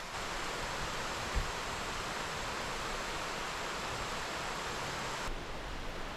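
Heavy tropical rain in a Costa Rica jungle garden, a dense, steady roar like a waterfall that continues without letup throughout.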